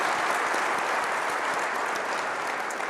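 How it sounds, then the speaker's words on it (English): A large keynote audience at a tech conference claps in a continuous, even roar of applause that holds steady from start to finish, with no voices on top. "So can we just get a round of applause for all these folks that took a chance at us"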